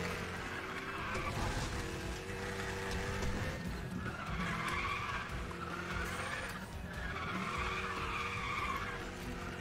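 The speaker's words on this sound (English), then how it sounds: "We're doing some drifting out here." An Audi Quattro drifts in Need For Speed The Run, tires squealing in long repeated screeches over a loud, continuous engine roar, with no talking.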